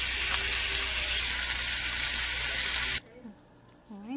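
Beef ribs sizzle loudly in a pan just after being flipped for a light char, a dense steady frying hiss that cuts off abruptly, leaving quiet clinks and handling noises.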